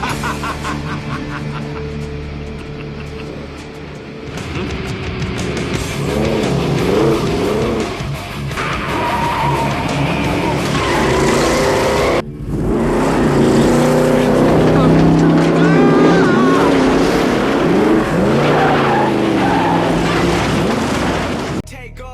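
A Dodge Demon and a modded Honda Civic race with loud engines revving and shifting through rising and falling pitches, a short break midway, and voices talking over the roar.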